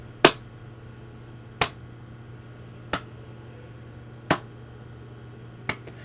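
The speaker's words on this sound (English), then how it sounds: "you hear clapping." Five sharp, separate claps ring out at a slow, even pace about 1.3 seconds apart over a low steady hum, each one crisp and fairly loud with a quick decay.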